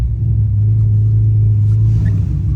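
A rare Japanese-import BMW M3 idling smoothly after new spark plugs, a steady deep engine rumble that stays loud and close throughout with no voices.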